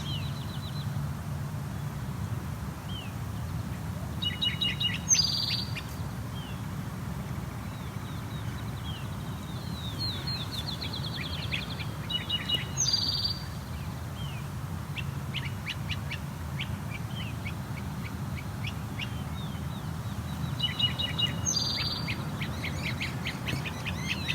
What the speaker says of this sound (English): Now appears to be three great crested flycatchers here.